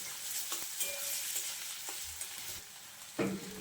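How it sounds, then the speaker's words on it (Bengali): Sliced onions and four slit green chillies fry in hot oil, giving a continuous sizzle broken by scraping and clinks of stirring in the pan, alone with no voices. "দিয়ে আবার আমি পেঁয়াজটা ভাজতে থাকবো"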